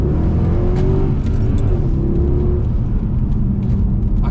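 A 2012 Mercedes-Benz C63 AMG W204 V8 idles with a deep rumble, then is revved repeatedly, the engine note rising and falling in close, loud blips.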